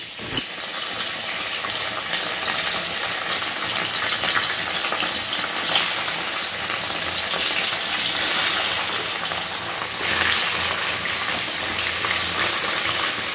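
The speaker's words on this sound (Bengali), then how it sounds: "চলো মাছগুলো ভেজে ফেলি।" Small fasa fish fry in a pan, giving a loud, steady, hissing sizzle that runs unbroken throughout, with occasional faint surges.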